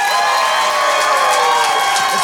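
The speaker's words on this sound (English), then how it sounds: "If you thought Jasmine Mills was the winner, clap your hands." A comedy roast battle audience in Hartford claps and cheers loudly and continuously, a dense wall of applause mixed with whoops and shouts from close by.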